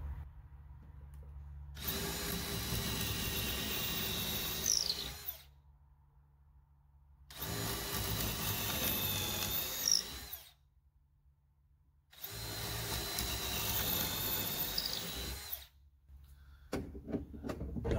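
A power drill whirs through pre-marked wood in three long bursts of about three to four seconds each, separated by quiet pauses, close and steady.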